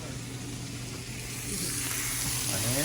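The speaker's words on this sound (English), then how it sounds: "I'm gonna grill these onions." Onions sizzle on a hot griddle beside toasting bread for a pastrami sandwich, a steady close frying hiss that swells slightly partway through, with a brief spoken remark over it.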